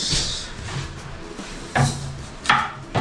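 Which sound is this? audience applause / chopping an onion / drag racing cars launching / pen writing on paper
chopping an onion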